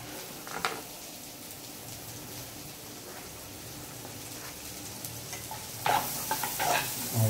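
Finely chopped onion sizzles in butter in a pan, a steady close frying hiss with occasional stirring scrapes and louder clatter near the end.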